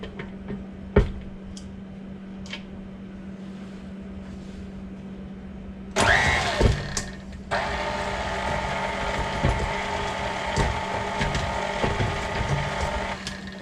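Chocolate banana bread batter gets a final mix. Light clattering and a knock come first, then a loud steady mechanical whir starts up and runs to the end.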